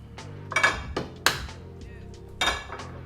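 Two eggs beaten in a shallow dish for a chicken katsu breading setup, heard as a few separate sharp clinks and taps of utensil against dish spaced across a quiet moment, close and fairly loud, with no talking.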